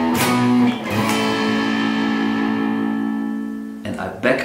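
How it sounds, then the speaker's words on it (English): Overdriven electric guitar through an XVive U2 wireless system rings out close and loud in a few sustained chords, each left to decay before a fresh strum near the end. "I use an overdriven sound like this,"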